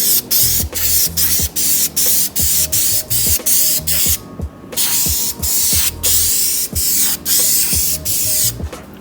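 A spray can lays a third coat of paint onto 3D-printed emblems, close and loud in short rapid bursts of hissing that repeat steadily and run nearly continuously, with no voices.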